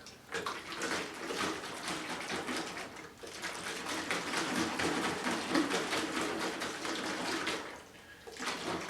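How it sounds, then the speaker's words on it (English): Water and sand sloshing inside a shaken plastic container, a continuous rushing, splashing wash with rhythmic pulses and a brief pause near the end, close and fairly loud with no talk. "I have here a plastic container with some water in it and some sand. So if I shake this,"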